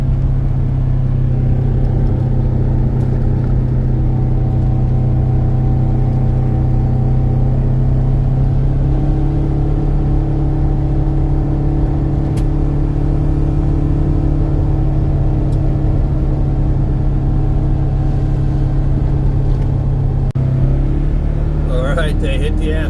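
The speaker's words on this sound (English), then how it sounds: "Hopefully they got low enough gear to chug up the hill." A loaded moving truck grinds uphill in low gear, its engine a steady, loud, droning rumble that holds throughout with little change, close by; a brief rustle comes near the end.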